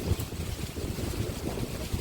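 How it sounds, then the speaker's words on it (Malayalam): Steady wind rushes and buffets the microphone at a riverside homestay near Honnavar in Udupi, Karnataka, a continuous low roar with faint water-like wash beneath it and no talk. "ഇവിടെ നിന്നുള്ളൊരു കാറ്റ് നോക്കണം, അടിപൊളി."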